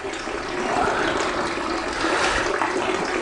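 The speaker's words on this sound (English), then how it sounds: "So the water comes into the pond, filling the pond up, and then it overflows out and into the ground drain" Rainwater from copper downpipes pouring into a garden pond with fish and overflowing into a ground drain, heard as a steady, fairly close rush and splash of running water with no pauses.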